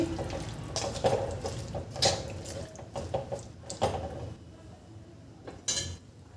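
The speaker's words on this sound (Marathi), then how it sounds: "इथे आपण हे वाटणाचं पाणी घालून घ्यायचं आहे" Ground spice paste water splashes and trickles into a pan of vegetables, with a few clinks and scrapes of a utensil against metal, close by and fairly quiet.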